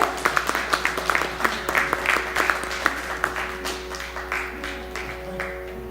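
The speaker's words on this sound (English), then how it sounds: "All of you give another big round of applause to our artists here." A concert audience at a music academy fundraiser applauds with dense, steady clapping that carries on for several seconds, with a few louder claps standing out, and people are heard speaking at a low level under the applause.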